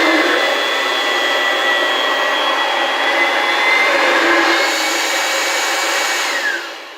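An Oreck Edge upright vacuum cleaner running with its suction diverter engaged, a loud steady whirring motor drone with a faint shift in pitch midway, fading slightly at the end.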